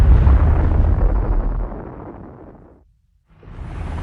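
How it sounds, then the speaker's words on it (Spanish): A hydrogen bomb explosion produces a massive low rumbling blast that fades over a few seconds into near silence before a fresh roar of wind swells back in. "La potencia de la explosión es similar a la de 10 millones de toneladas de TNT"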